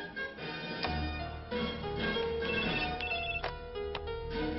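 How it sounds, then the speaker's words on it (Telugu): Telephone ringing in a lodge, a bright repeated electronic trill sounding in quick bursts at moderate distance over a faint background hum, with no voices. "రఘురామయ్య గారి గురించి తెలుసుకోవాలని చాలా ఫోన్ కాల్స్ వస్తున్నాయి సార్"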